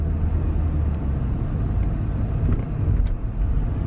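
A Maserati Ghibli engine drones steadily while the car rolls along with start-stop mode active, a constant low rumble of road and engine noise filling the cabin with no talking.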